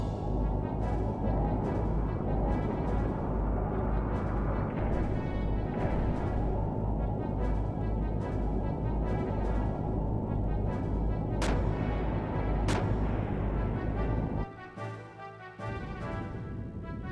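Artillery fire in the Xenogears video game, a dense, continuous rumbling barrage that goes on for about fourteen seconds. Two sharp cracks cut through near the end, then it drops off into quieter rumbling.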